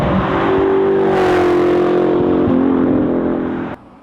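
A 2005 Ford GT's engine revs hard through an aftermarket aluminum X-pipe exhaust, a loud, close, rich tone that climbs, holds and dips slightly before cutting off abruptly near the end.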